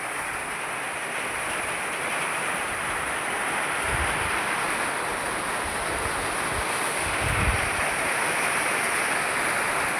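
Heavy rain pours outside in a steady, dense hiss that holds unbroken for several seconds, with a couple of dull low thumps beneath and no voices.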